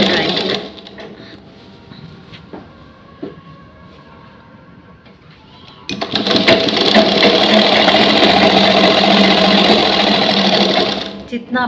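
A sewing machine stitches the seam of a ladies' pant, starting with faint intermittent clicks and then whirring loudly and steadily at high speed for the second half.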